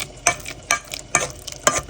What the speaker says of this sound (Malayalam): പഴം എടുത്ത് നല്ലോണം മിക്സ് ചെയ്തെടുക്കുക.